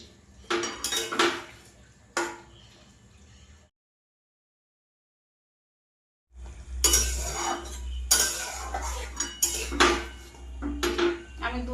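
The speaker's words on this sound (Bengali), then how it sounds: "দু চারটে আলু আমি এখানে ভেঙে দিচ্ছি এতে করে গ্রেভিটা একটু ঠকঠকে হবে" Potatoes being mashed into curry gravy in a pot with a utensil, giving clanking, scraping metal-on-pot knocks in bursts before and after a silent gap, close and moderately loud.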